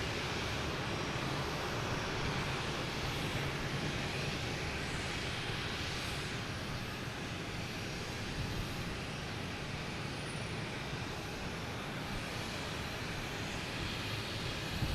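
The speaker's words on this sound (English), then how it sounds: "we have KLM here coming in, an A330-300 coming in from Amsterdam" KLM Airbus A330-300 arriving from Amsterdam at Boston Logan, a steady broadband jet roar from a distance that holds level throughout, with a faint traffic hum beneath and no voices.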